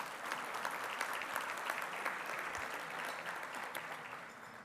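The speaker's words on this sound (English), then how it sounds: "A big round of applause for them." A full room of people applauding sponsors at a business awards ceremony, dense continuous clapping that holds steady for several seconds before slowly thinning out.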